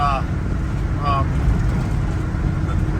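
A 1971 GMC Jimmy drives down the road, its engine a steady low rumble heard from inside, with a few brief chirps and rattles over the drone.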